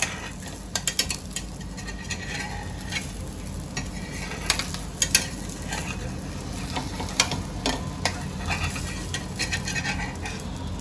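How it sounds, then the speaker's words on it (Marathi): Onion slices sizzle and crackle in hot oil in a pan over a high flame, a steady close frying hiss dotted with sharp pops and occasional utensil clicks, with no voices. "कांद्याला मी एका साईडनी दोन मिनिटापर्यंत एका साईडनी तळून घेते"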